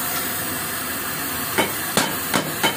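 Four sharp pops from an acetylene welding torch used to weld a Honda Vario exhaust muffler, spaced irregularly over about a second and a half above a steady hiss.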